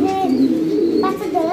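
Pigeons coo in soft, low, continuous throaty rolls close by, with a few brighter chirps mixed in and a voice speaking over them.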